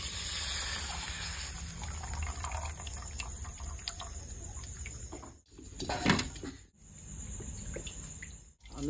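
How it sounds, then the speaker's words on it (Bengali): Syrup pours from a pan into a bowl of cashews and raisins, a steady liquid trickle running throughout with two brief dips, moderately loud and close. "রসটা এই কাজু কিশমিশে বাটিতে ঢেলে দিচ্ছি।"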